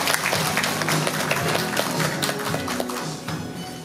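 Audience applause fills a lecture hall at a humanities talk on Pocheon given by a local elementary school principal: dense, steady clapping from many hands that runs unbroken throughout, close and fairly loud, with no voices over it.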